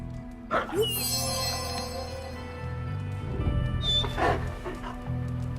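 A dog whimpers and yips in the video game Marvel's Midnight Suns, with short high cries and faint whines over a steady game ambience, while a voice speaks briefly near the end.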